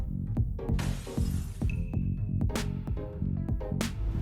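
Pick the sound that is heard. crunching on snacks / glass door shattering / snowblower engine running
glass door shattering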